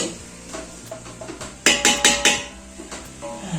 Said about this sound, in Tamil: வந்துருச்சு சவுண்டு. டிங் டிங் டிங் டிங். நான் பாட்டு கிண்டிக்கிட்டே இருக்கேன்.